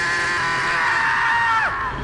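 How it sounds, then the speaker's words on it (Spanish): A single loud, sustained scream of fright, close and alone, holding steady for over a second before breaking off and dropping away. "no pudieron evitar un grito de espanto"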